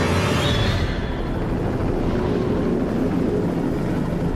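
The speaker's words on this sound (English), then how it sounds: "We see this helicopter just being tossed about like a cork on the ocean" A helicopter hovers over a rough ocean during a rescue attempt, its loud continuous rotor and engine roar filling the whole clip with steady broadband noise, dense and close, with no talking.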